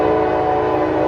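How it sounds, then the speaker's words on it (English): A loud, sustained locomotive horn blares from a passing train hauling heritage-unit locomotives through falling snow, one steady chord with nothing else over it. "That'll be 3 heritage units on the last 3 trains of the day."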